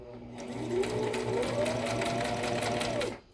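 A sewing machine runs slowly while stitching bias tape into mask ties, giving a steady, close whirring hum for about three seconds before it stops.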